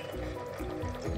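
Water is poured onto cooked chicken kadahi in a cooking pan to cool it, giving a brief, soft splashing trickle over a noisy kitchen background.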